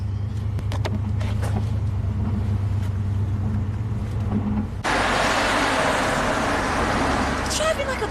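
Steady, loud roar of a car being driven fast on a road, heard from inside with a continuous low engine rumble that shifts abruptly to a brighter, noisier rush partway through.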